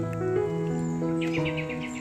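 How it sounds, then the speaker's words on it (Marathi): Birds sing among mango and cashew trees in a quiet Konkan village, clear sustained whistled notes overlapping and shifting pitch, with a quick run of chirps near the end, fairly close and unaccompanied by talk. "मस्त पक्ष्यांचे आवाज येत आहेत"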